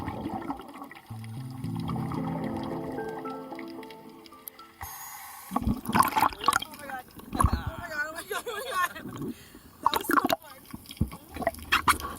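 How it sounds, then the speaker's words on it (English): A scuba diver off Baja California Sur, Mexico blows bubble rings underwater, giving a run of soft, irregular bubbling bursts and gurgles after a steady tonal hum that fills the first few seconds. "So what we like to do is often blow bubble rings and keep each other entertained."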